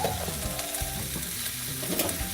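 Watercress is stirred in a pan with a metal spatula, giving close, continuous scraping and rattling strokes over a steady sizzle.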